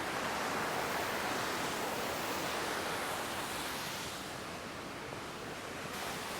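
A steady, loud roar of falling water rushes continuously with no pauses, close by and filling the whole scene.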